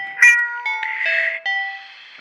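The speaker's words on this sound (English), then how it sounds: "Meow." Cat meowing in a video game, a few short tonal meows in quick succession, close and clear with no talking over them.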